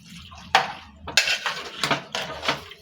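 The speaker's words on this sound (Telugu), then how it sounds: "ఆ మటన్ని కొద్దిగా కలబెట్టుకోవాలండి" Mutton curry being stirred in a metal pot. A utensil scrapes and clanks against the pot in several close, uneven strokes, with a wet, slushy texture between the knocks.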